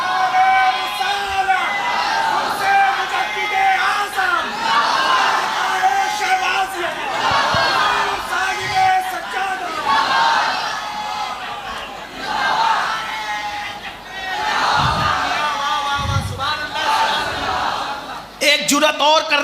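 A large crowd at an Urs gathering in Bhagalpur, Bihar answers a Takbir call with loud chanting in repeated surges. Voices rise and fall in waves with babble between them, dense and fairly close.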